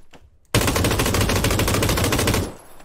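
An M249 machine gun fires in a video game on the Karakin map. One loud, sustained automatic burst of about two seconds starts abruptly after a quiet moment, then cuts off and fades into low background noise.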